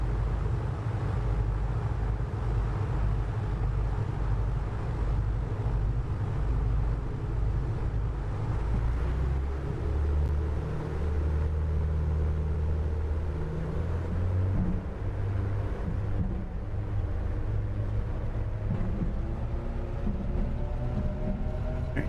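Twin engines of an A2A Aerostar 600 at takeoff power in a flight simulator, a dense steady roar and low rumble holding without pause, rising slightly in pitch toward the end as the aircraft gathers speed.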